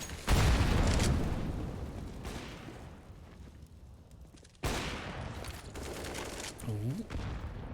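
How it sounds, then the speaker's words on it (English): Grenade blast in a competitive shooter match bursts loud at the start and rumbles away, followed by a second sharp boom midway and scattered gunfire, with a voice speaking briefly near the end. "Oh, and that grenade did a little bit of damage."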